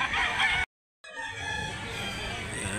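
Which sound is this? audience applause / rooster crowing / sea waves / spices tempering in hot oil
rooster crowing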